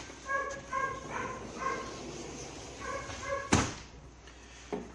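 A dog barks repeatedly indoors in short bursts of two or three yips. A door slams once, loudly, partway through.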